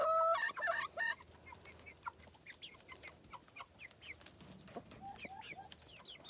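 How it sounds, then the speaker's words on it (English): Chickens cluck and squawk nearby, with a sharp loud call at the start followed by scattered soft clucks and chirps from several birds. "big chickens came over here to check out what's going on."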